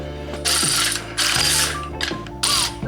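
A ratchet wrench clicks rapidly in several short bursts, loud and close, while turning a bolt on the LS engine accessories of a 1948 GMC pickup truck, with brief pauses between strokes.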